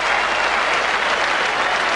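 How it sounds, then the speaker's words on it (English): Steady, dense applause from a large crowd at a World Series Cup cricket match in Australia, loud and sustained for the full length with no distinct voices. "Tremendous applause as he hit that ball straight down the ground."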